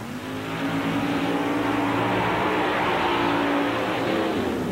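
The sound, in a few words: S10 Blazer with 454 big block Chevrolet racing through mud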